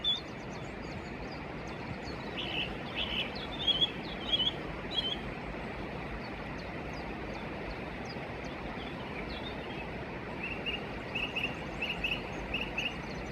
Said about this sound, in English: I was lucky to hear some of the birds in the morning.